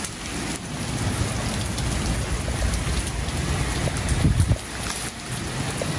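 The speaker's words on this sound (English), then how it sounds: "Rain just coming on down now," Heavy monsoon rain at Civic Center Mall pours steadily in a dense, hissing wash, with gusts of wind swelling and fading through it.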